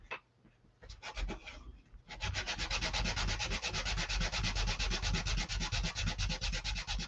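Steady sanding scrapes away the textured surface of a wood biscuit sign, a brief scratchy start then continuous rapid back-and-forth rasping, close and loud, with no talking.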